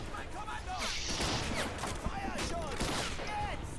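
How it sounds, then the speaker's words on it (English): Rapid bursts of shellfire against artillery pieces and tanks in the Men of War video game, a dense crackling barrage of overlapping blasts and impacts under an ongoing mix of battle noise and a voice talking. "I'm shooting shells at artillery pieces and tanks."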